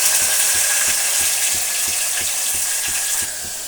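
Onion and tomato frying in a pan with curry leaves, a loud steady sizzle up close with a regular rhythmic scraping of stirring about three times a second, no talking.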